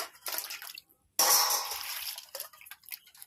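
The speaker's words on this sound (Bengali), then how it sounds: "ডিমগুলো ভালো করে কলের জল দিয়ে ধুয়ে নেব," Peeled duck eggs washed under a running kitchen tap, with close splashing and dripping bursts broken by a brief quiet gap, then a louder gush of water over the eggs.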